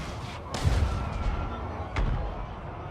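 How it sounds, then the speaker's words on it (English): Ranged units firing in Total War Warhammer 2 battle, two heavy booming shots about a second and a half apart over a continuous low rumble of distant battlefield noise. "Keep shooting at them, please."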